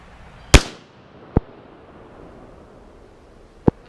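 Three sharp gunshots from a Kel-Tec PMR-30 pistol during outdoor ammo testing at about 15 yards, irregularly spaced, the first loudest with a short echoing tail, each crack standing alone against quiet wind.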